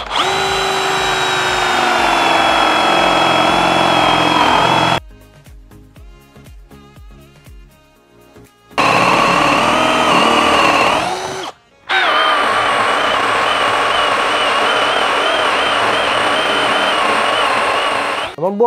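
A Ryobi RAD18C cordless angle drill with a 35 mm flat spade bit bores into wood. Loud, steady whirring runs in long bursts, broken by a quieter pause with talking and a brief stop.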